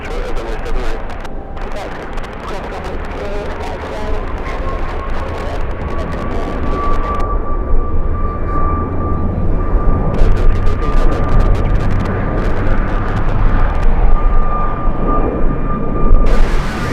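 An American Airlines jet arrives at LAX from Dallas in strong winds, a rising whine and steady rumble from about two miles out that grow louder over buffeting wind noise.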